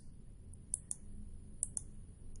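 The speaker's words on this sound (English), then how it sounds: "I'm clicking here several times" Repeated mouse clicks in the Construct 2 game editor, four crisp, faint clicks in two close pairs over a quiet background hum.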